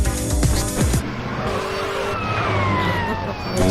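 A sports car in GTA San Andreas drives at speed and skids, with a revving engine, sweeping tire squeals and in-game sirens layered together, loud and close throughout.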